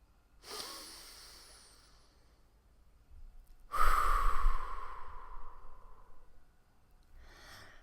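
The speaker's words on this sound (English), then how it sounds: "I invite you to take a breath." Two deep, audible breaths taken close up, a long inhale-exhale followed by a pause and then a louder, sustained breath with a sighing release, with no talking.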